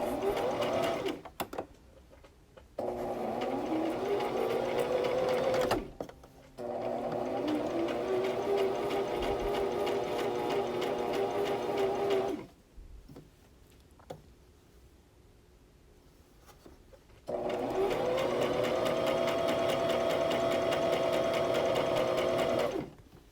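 A sewing machine stitches a seam in velvet fabric for a scrunchie. Three long runs of fast, steady mechanical whirring are split by short quiet pauses, close and alone.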